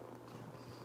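A foster kitten purrs softly and continuously up close, a low, even rumble with no other sounds.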